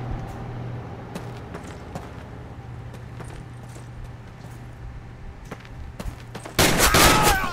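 Pistol fire in a Call of Duty match: scattered sharp shots crack over a steady low hum, then a loud, dense burst of gunfire erupts near the end and carries to the close.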